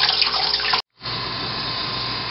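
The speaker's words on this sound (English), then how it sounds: "so I'll just pour the excess water off" Excess water from a home-brewing kettle pours out in a steady, close rush, breaks off abruptly for a moment, then resumes as a smoother continuous flow.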